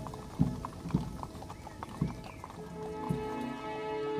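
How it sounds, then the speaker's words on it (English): Horses pulling a caisson clop along at a slow, steady walk, sharp hoof strikes ringing out about every half second to second, moderately near, over a faint hum with no talk. "the steady cadence of a horse-drawn caisson"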